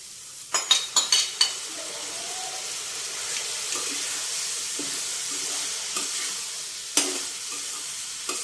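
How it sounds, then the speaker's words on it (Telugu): Boiled toor dal is tipped into a pan of cooking bottle gourd and stirred, with a few quick clattering scrapes of a spoon at the start, a soft bubbling hiss, and another sharp knock near the end. "ఈ కందిపప్పు వేసేసుకుందాం."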